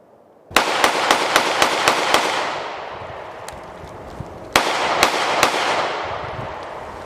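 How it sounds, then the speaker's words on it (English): Rapid gunshots from a Canik METE MC9 micro 9mm pistol: a quick string of about seven sharp cracks, a pause with echoing tail, then three more shots, loud and close outdoors. "It's just a great shooting little gun."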